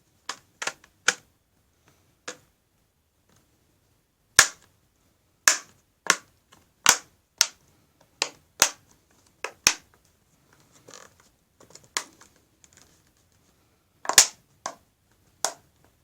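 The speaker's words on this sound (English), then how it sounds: "I want you to hear the normal popping when I close the plastics" Repeated crisp plastic pops as the casing of an Acer Iconia B1-A71 tablet with a faulty touchscreen is pressed closed, a long irregular series of sharp close clicks with short pauses, loud and alone without talk.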